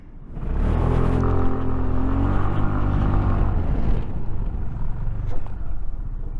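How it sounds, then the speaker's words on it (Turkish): A 2022 SYM Joymax Z+ 250 scooter engine rises in pitch as it accelerates, holds a steady hum, then winds down as front and rear brakes are applied together, close and moderately loud. "Biraz hızlanıp ön arka kombine bir şekilde frenlememizi yapalım."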